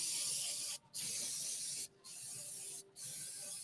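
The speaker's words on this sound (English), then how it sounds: "spray it on there." A spray bottle hisses out three bursts of fine mist of a streaking-grime weathering mix, each lasting about a second with brief pauses between, close and fairly loud.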